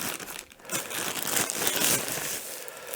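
Plastic packaging from an Edifier QD35 speaker crinkles and tears close up, a loud continuous rustling and crumpling with no voices.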